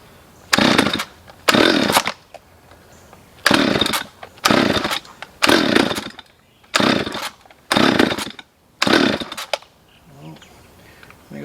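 A Stihl 023 chainsaw revs in repeated bursts after carburetor adjustment, about eight loud, rasping throttle blips in an uneven rhythm with the engine dropping back to a rough idle between them, close up.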